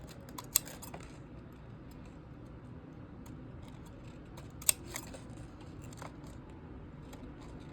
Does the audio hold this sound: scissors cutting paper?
yes